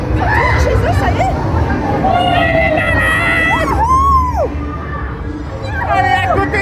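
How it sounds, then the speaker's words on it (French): Riders scream on a Halloween-season ride at Europa-Park, with loud, overlapping high-pitched screams and wails above a dense crowd roar, rising and falling throughout. "à côté, ils sont en train de crier plus fort que nous, là!"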